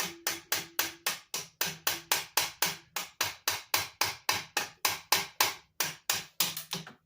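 A brass hammer taps a valve on an old, crusty Ford big block cylinder head. The blows come in a fast, steady run of about two dozen sharp, close metallic knocks with no talking.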